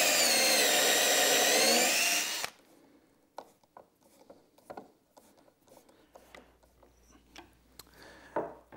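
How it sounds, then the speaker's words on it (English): A high, steady power drill whines for about two seconds drilling pilot holes in wood for a workbench, then stops, leaving scattered clicks, taps and handling noises. "pre-drill those holes, and then attach it"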